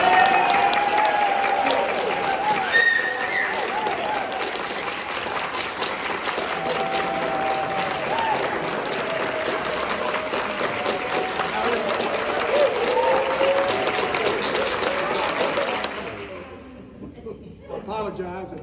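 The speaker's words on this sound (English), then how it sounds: "I expect loud and spontaneous applause" A group in a hall bursts into loud, sustained applause on command, dense clapping mixed with crowd noise and chatter for about fifteen seconds before cutting off abruptly into quieter room sound.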